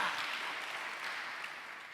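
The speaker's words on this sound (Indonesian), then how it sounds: "Tepuk tangan bagi Allah kita." A church congregation applauds during a sermon, a brief, faint and somewhat distant wash of clapping that holds steady and then eases slightly.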